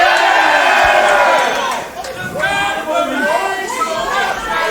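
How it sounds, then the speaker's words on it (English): A noisy wrestling crowd in Birmingham cheers and chatters at a title match, loud rowdy shouting and whooping that dips briefly then swells again, with voices throughout. "Great crowd, a noisy crowd in Birmingham, very much behind Al Snow"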